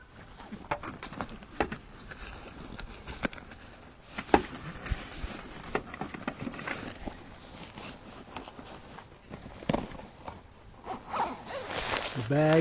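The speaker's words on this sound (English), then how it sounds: "Okay, so I'm not going to zip it up all the way" A zipper on a camper awning bag rasps in repeated short pulls, close by, amid rustling fabric and handling noise, with a longer zip near the end.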